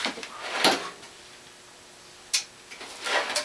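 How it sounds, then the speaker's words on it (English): A drawer slides open on a workbench where a Gamecube controller is being repaired, giving two short close scrapes with a rattle about two seconds apart and then a softer shuffle, with no talking. "let me get some solder out of the drawer."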